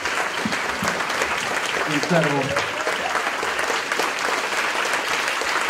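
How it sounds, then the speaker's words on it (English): Steady applause from an audience fills the room at a Q&A with Norma Miller, with a voice speaking briefly over the clapping. "let's give a huge round of applause"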